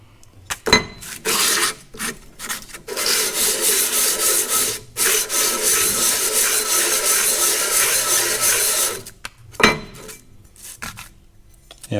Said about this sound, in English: I took them out to the flat milled surface of the table saw with some sandpaper on top